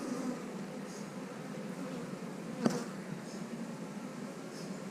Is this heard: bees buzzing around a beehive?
yes